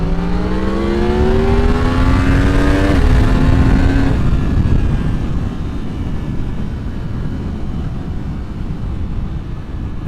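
A 2023 Yamaha MT-10 and a 2022 Triumph Street Triple RS accelerate hard from second gear. Loud, close engine roar climbs steadily in pitch, breaks at a gear change, then settles into a sustained rushing drone.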